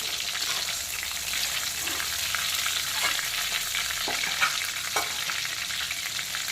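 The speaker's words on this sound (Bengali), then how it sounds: "এখন পটল আর আলুগুলোকে তেল থেকে আমি তুলে নিচ্ছি।" Pointed gourd and potato pieces frying in hot oil, a steady dense sizzle throughout with a few soft knocks as a slotted spoon lifts them out, close and alone.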